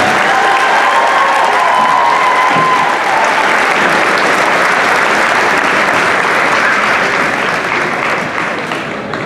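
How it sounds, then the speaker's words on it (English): A large audience applauds at a 2019 high school class night graduation ceremony, with dense, loud, sustained clapping for about nine seconds that thins slightly toward the end. "Give them a big round of applause."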